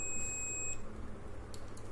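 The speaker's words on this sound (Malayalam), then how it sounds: "കണ്ടിന്യൂറ്റി അതിൻ്റെ ബീപ്പ് സൗണ്ട് കേൾക്കാം." A multimeter on continuity mode sounds a single clear, steady high-pitched beep lasting under a second while probing a toggle switch, followed by a low background hum.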